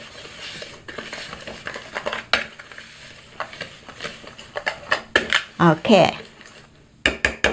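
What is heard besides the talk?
mixing dry ingredients for walnut cookies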